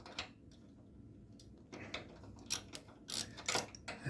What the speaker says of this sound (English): I'll just grab my Allen key and my quarter drive ratchet here, and we'll just tighten this up